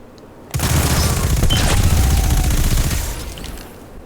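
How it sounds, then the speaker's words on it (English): A Recluse Void submachine gun fires in Destiny 2 as a loud, dense burst of rapid shots lasting a couple of seconds, then tails off into quieter ambience. "So the Recluse is a Void submachine gun."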